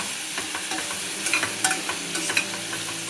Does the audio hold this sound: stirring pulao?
yes